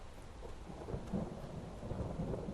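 Thunder rolls during a rainstorm in a video game: a faint, low, distant rumble that swells and recedes over a soft background of steady rain, with no voices.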